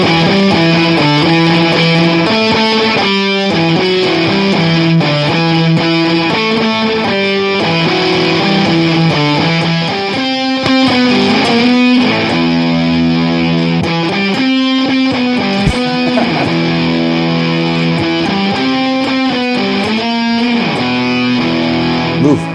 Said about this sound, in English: is this functional with a distortion overdrive, or is it going to get too crazy?